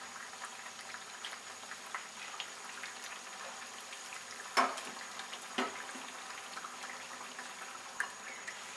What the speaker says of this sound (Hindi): ऑयल गर्म हो गया है। अब इनको हम फ्राई करते हैं।